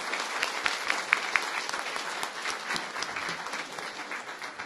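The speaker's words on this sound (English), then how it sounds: "Huge round of applause for our kiddos." An audience at a school board meeting claps for All-State Band students, a lively crowd of hands with a few sharp close claps standing out early, then a steady, slightly fading patter, with no talking.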